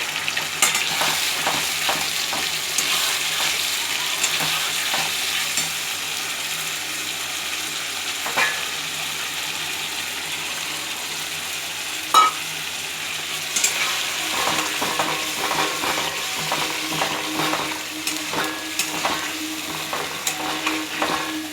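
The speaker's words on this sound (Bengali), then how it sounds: "ধোকাটা হয়ে গেছে ভাজা প্রায়, দেখো পুরো লাল লাল হয়ে গেছে" Dhoka, Bengali lentil cakes, fry in a pan with a continuous close sizzle, with scattered stirring scrapes and a sharp clink near the middle, and no talking.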